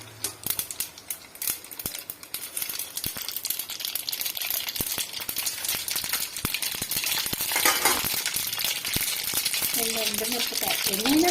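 Mustard seeds crackling and sputtering in hot oil for tomato pachadi, a dense run of sharp pops and snaps that grows busier and louder midway, with a faint voice toward the end.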